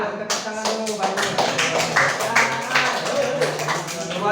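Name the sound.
class clapping hands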